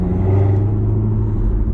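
A car engine with a manual transmission hums and revs steadily as it is downshifted, a low, continuous rumble heard close and fairly loud with no voices.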